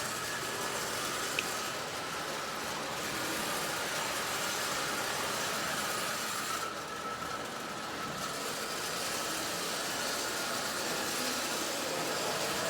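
Prewar Marx 999 toy train locomotive running, a steady close whirring and rattling hum that continues evenly throughout with no talk.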